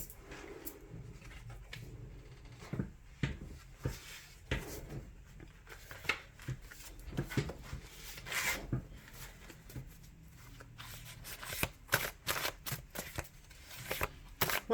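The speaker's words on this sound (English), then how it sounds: "Here I go, throwing my cards." Tarot cards are shuffled and tossed down during a love reading, giving a close series of irregular riffling, slapping and rubbing bursts with brief pauses.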